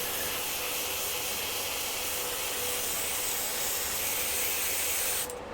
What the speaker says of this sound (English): Suddenly I'm spraying stuff everywhere.